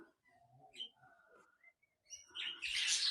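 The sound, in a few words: king quails and budgerigars calling in an aviary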